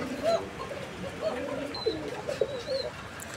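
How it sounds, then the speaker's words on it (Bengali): A pair of Gorra pigeons coo in soft, repeated throaty phrases close by, faint against a noisy market-like background with occasional distant chatter. "গররা কবুতর একটি জোড়া।"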